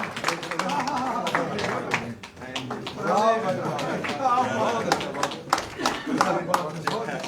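Applause welcoming guests at a BJP joining event, scattered clapping heard under someone speaking continuously into a microphone.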